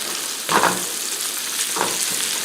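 Hash sizzling in a pan with a steady low frying hiss and two brief louder bursts of stirring or scraping, no talk.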